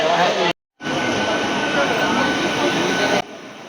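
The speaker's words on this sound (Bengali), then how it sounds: "ট্রেন আসছে" The Ganadevata passenger train pulling into Bandel station, a loud continuous rumble of wheels and carriages with a brief break, heard up close.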